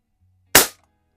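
A single sharp shot from a Crosman Model 1 .22 caliber pump air rifle fired at a splatter target in a garage: one close, loud crack that decays quickly, with a faint low hum beneath.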